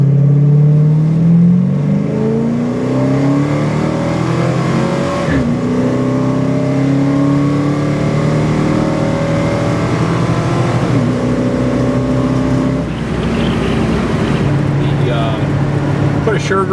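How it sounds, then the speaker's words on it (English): A 1967 Chrysler Newport with a 383 V8, Hughes Whiplash cam and tall 235/75-15 tires launches at full throttle from a dead stop, engine climbing loud and close through rising revs with distinct drops at each 1-2-3 shift. "Do a full throttle 1-2-3 shift off the dead start."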